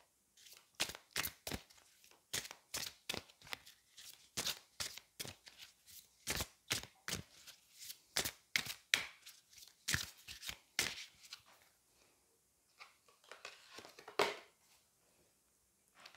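Sacred Earth oracle cards being shuffled by hand in a quick, steady run of crisp riffling snaps, close and fairly quiet, slowing to a few softer shuffles near the end.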